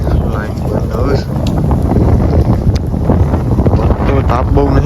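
Wind buffets an outdoor microphone in open grazing land, a loud low rumbling roar with gusty surges that persist throughout and mask everything else.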